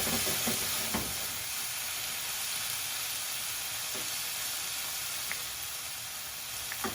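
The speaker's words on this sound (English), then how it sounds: "See that water cooks away pretty quickly, but it's releasing a lot of steam" Steady high hiss of water sizzling in a hot pan while cooking pork dumplings, with occasional faint pops and clinks over the continuous steamy crackle.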